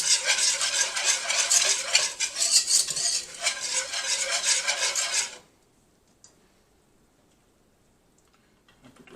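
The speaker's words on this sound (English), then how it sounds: "I'm just going to stir all the flour in" Flour being stirred into hot oil for a roux in a pot, for an alligator sauce piquant: a bright, busy scraping and sizzling hiss for about five seconds, then it stops abruptly into near silence.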